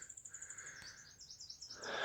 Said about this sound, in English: There are a lot of birds I can hear.